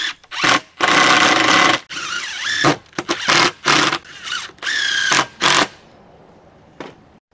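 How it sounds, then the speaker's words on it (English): A power drill drives screws into the wood of an outdoor workbench in a series of short, loud, whirring bursts close to the microphone, separated by brief pauses and a quieter tail. "Clamp them down tight and drive 2 screws in to hold them in place."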